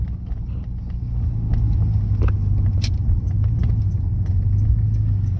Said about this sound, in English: Oh, check out this car coming.